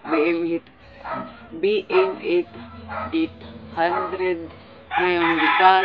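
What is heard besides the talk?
rooster crowing in background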